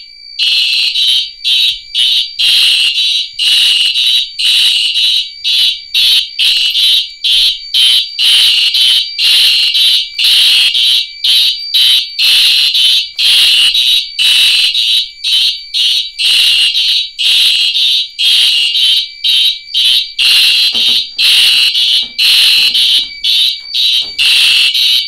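A Simplex fire alarm sounds during a system test, a loud, piercing electronic tone pulsing in rapid, regular bursts with short gaps, repeating continuously and alone throughout.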